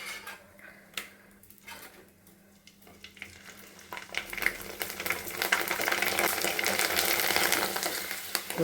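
Rice appalam (papad) deep-fries in hot oil, starting as faint scattered ticks and crackles that swell midway into a loud, dense, steady sizzle and bubbling.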